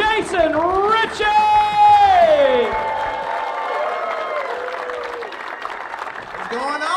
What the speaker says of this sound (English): keep your applause going real loud for Jason Ritchey